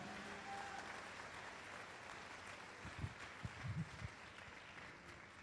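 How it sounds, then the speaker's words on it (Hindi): A church congregation claps during a Hindi-language worship service, a soft, distant wash of applause with a few louder low thumps near the middle. "ताली बजाओ परमेश्वर की महिमा के लिए"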